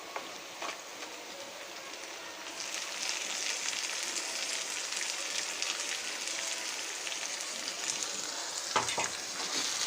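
Marinated beef dropped into onions already fried light brown in a pan for spicy beef bhuna, sending up a loud, steady broadband sizzle that jumps at the moment the meat lands, with a clatter near the end.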